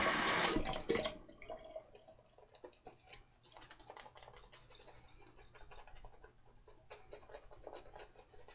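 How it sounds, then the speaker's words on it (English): Water is splashed and worked into shaving lather during a wet shave with a Rolls razor, giving a brief loud burst followed by soft, close, irregular wet scratching and swishing. "I could actually put a little more water in there."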